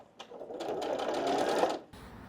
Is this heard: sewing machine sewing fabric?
yes